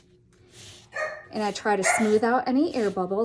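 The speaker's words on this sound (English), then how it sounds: "I'm so sorry about my dog barking." A miniature poodle barks in a quick series of sharp yips indoors, close and fairly loud, overlapping a person talking steadily through it.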